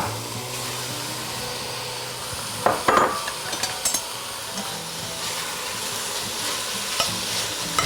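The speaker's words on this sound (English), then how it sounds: "Our onions have been sauteing for a while now, and they're looking pretty. And now we're going to add the pickle pork." Pickle pork dropped into a pot of sauteed onions for New Orleans red beans and rice sizzles steadily, with a few louder clatters and stirring knocks near the middle and a low hum underneath; no one speaks.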